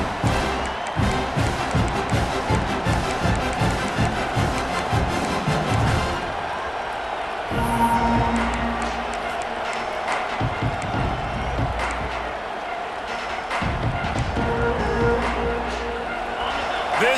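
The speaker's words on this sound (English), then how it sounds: "This crowd bringing an ear-splitting welcome to their visitors." A stadium crowd at an Oklahoma Sooners versus Auburn football game roars and cheers in a loud, sustained wall of noise, rising and falling with scattered shouts and clapping.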